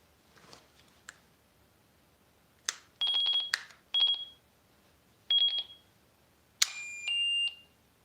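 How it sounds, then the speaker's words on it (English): A new avalanche transceiver gives a series of electronic beeps, short chirps and several longer sustained tones in an irregular pattern, close and fairly clear against a quiet room without speech. "Don't you love it when you hear lots of beeping like that?"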